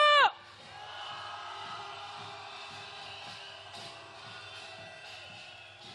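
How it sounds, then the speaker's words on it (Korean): A crowd at a candlelight protest march in heavy rain cheers and shouts in one sustained roar, with an opening yell and a steady drumming rhythm underneath throughout. "함성 질러주십시오."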